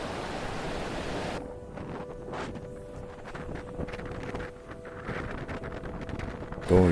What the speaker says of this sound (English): The waves, seemingly possessed by a devilish force, grew stronger and more ferocious, crashing against the rocky banks of the island with a thunderous roar.